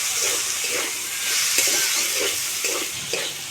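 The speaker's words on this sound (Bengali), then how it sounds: "এই সব উপকরণ দিয়ে খুব ভালোভাবে আলুটাকে আমি কষিয়ে নেব" Potatoes stir-fried with spices and ginger paste for a vegetarian curry, a loud steady hiss of frying with evenly spaced spatula strokes scraping the pan, close by, with no talking.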